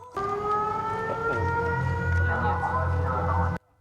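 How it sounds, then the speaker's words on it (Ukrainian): A civil defense siren played back from a recording wails steadily with layered rising tones, accompanied by a low rumbling drone, before cutting off abruptly near the end. "це сирена звучить на відео"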